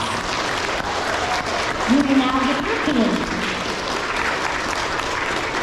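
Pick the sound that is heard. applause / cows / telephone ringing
applause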